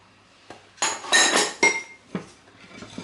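Raisins are stirred into cake batter in a bowl, with a utensil clinking and scraping against the bowl in several loud, irregular bursts separated by quieter pauses.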